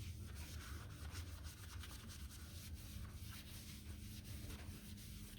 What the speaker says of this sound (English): come up to the spot with boot rub and erase it with the magic eraser